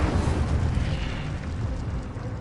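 A fire spell, Incendio, cast in the Hogwarts Legacy video game, bursting out as a loud, roaring blast of flame that holds steady for a couple of seconds.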